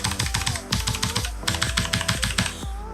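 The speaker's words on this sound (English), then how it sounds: "it's a typical MX Blue sound, click clack click clack click clack, pretty noisy" ASUS ROG Strix Scope RX gaming keyboard with MX Blue-type clicky switches typed on rapidly, sharp crisp clicks in quick uneven bursts, close and loud with no voices.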